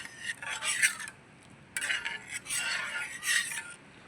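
A spoon scrapes and swirls through semiya payasam in a cooking pot, a close, soft rasping stir repeated in three strokes with brief pauses between.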